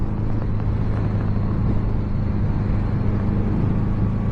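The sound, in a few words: 1982 Honda Goldwing 1100 motorcycle riding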